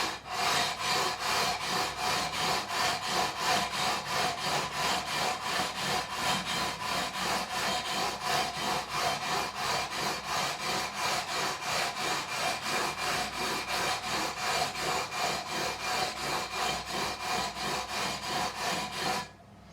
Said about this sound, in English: We're now going to take the levelling beam again. We're going to go with a 400 grit, the smoother of the papers.